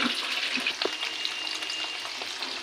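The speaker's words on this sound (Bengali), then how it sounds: "এবার আমি পেঁয়াজটা একটু ভেজে নেব।" Onion frying in a pan with a steady, close sizzle and a few scraping stirs, heard for a Chicken Manchurian recipe after capsicum has been fried; no one speaks.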